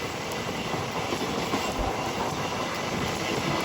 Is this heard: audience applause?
no